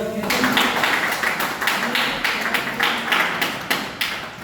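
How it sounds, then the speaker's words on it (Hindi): Clapping in a theatre and drama workshop setting, a steady run of broadband hand claps over about four seconds, with a few sharper accented claps standing out, moderately close and filling the room. "ताली बजाओ।"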